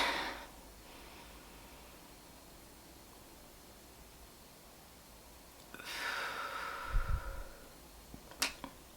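Two slow, soft breaths from a breathing exercise, an airy inhale through the nose near the start and a longer breath out through the mouth later, close and quiet against a faint hiss, ending with a small click.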